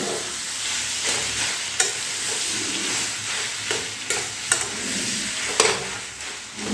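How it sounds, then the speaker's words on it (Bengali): Mashed olives stirred into a hot spice tempering in oil, a steady close sizzle and hiss with intermittent scraping and knocking of the spoon against the pan. "এর মধ্যে দিয়ে দিতে হবে আগে থেকে চটকে রাখা সেই জলপাই জলপাইগুলো দিয়ে দেওয়ার পর এই ফোড়নের সঙ্গে একটুখানি ভালো করে মিশিয়ে দিতে হবে"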